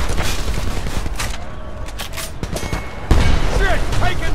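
Gunfire in the 2011 PC shooter Homefront: repeated sharp shots and bursts crackle through a battle scene, growing louder and denser toward the end, with voices shouting over the fighting.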